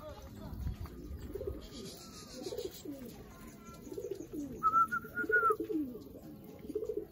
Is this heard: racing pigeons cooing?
yes